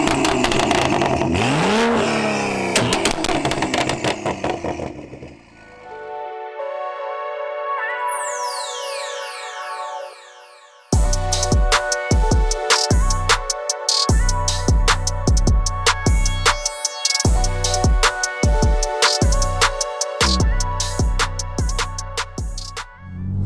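A 500bhp wide-body BMW M235i engine revs and accelerates hard, loud and close, with an engine note that rises and falls, a brief quieter gap, then a run of rapid aggressive revving and gear changes.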